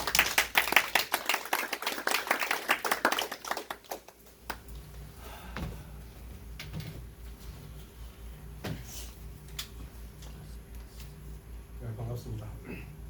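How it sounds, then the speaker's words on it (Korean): A church congregation claps loudly at a thanksgiving service marking a move to a new sanctuary. Dense applause fills the first four seconds, then fades into scattered claps, shuffling and faint room sounds. "크게 박수 부탁드립니다."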